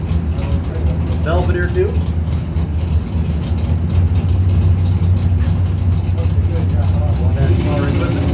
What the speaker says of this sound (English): That's the race engine.